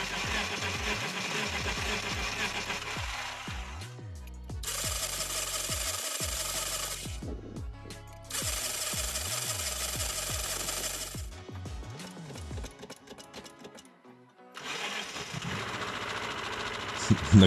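Petrol engine cranked by the starter in several separate bursts of whirring and churning, with short pauses between attempts, until it finally catches near the end; no voices.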